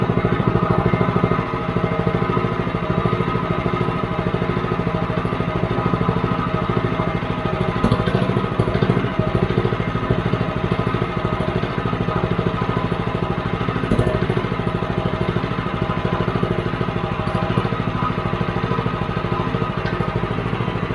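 Predator 212 small engine running with a Super Trap disc muffler fitted with four discs, a steady loud buzzing drone with slight unevenness, close and continuous for the whole stretch.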